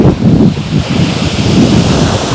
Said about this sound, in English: Hear those waves?